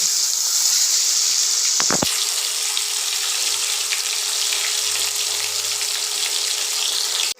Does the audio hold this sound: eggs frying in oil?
yes